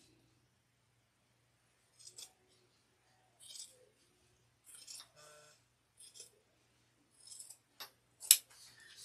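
Scissors snip a zipper end while sewing a quilted shoulder bag, giving a few short, quiet crisp cuts and small clicks spaced across a near-silent stretch.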